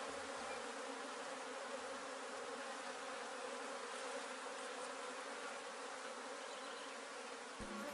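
Honeybees buzz steadily on a hive frame of capped brood, a dense, close, continuous drone that runs unbroken throughout.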